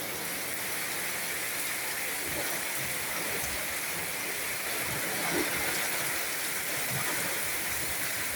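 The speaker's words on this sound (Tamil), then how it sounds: "தண்ணி மழை பெய்யுது அப்படி" Heavy rain pours steadily while water runs along the road, a dense, even hiss and rush that stays loud and unbroken throughout.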